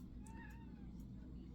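A cat meows a few times, close and fairly soft, while a person talks over it in the background.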